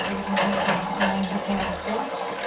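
Apple and currant juice runs from a home fruit press, a steady close liquid trickle with slight fluctuations over a faint low hum, no voices.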